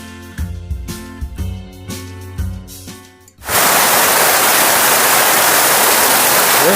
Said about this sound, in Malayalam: അതിതീവ്ര മഴ, കുറച്ച് സമയം കൊണ്ട് വന്ന വെള്ളം അത് മുഴുവൻ.